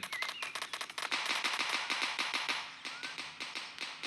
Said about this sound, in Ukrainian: Так, а як прикольно я можу стріляти.